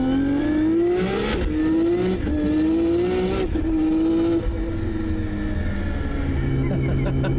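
A 1000+ horsepower Nissan R32 GT-R with a sequential transmission accelerates hard, its engine note rising in several loud climbs broken by quick gear shifts, then settling into a lower drone.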